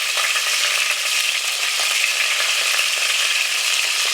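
Tomatoes frying in a pan over reduced heat for a white tuna and tomato sauce, a steady close hiss and crackle of sizzling oil that runs evenly without pause.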